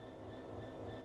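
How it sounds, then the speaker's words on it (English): Steady diesel-electric rumble of a BR Class 66 freight locomotive in Train Sim World 5, a continuous dense low drone with faint high tonal whine, loud and close with no break. "This is a BR Class 66 diesel-electric locomotive typically used for freight operations"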